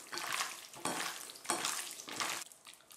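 Beef pieces stirred with a spoonful and a half of oil, producing wet, slick swishing strokes in four or five close bursts with brief pauses, no voices.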